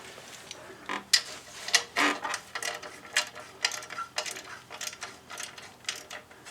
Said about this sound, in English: So alternate the socket either side, sort of half a dozen turns each side until it's nice and evenly drawn up in one go.